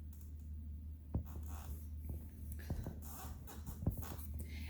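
Tarot cards handled and drawn close up, with soft shuffling and rustling and a few sharp card snaps over a low hum, no talk.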